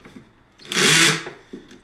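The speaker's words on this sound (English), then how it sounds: "drill a 1-inch hole that's, you know, big enough for my lens" Power drill boring a 1-inch hole through a wooden kitchen table, a loud, steady whine of about half a second that rises and falls away, close by, with no talk over it.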